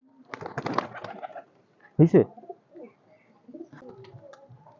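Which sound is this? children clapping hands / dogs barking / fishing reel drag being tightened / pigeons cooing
pigeons cooing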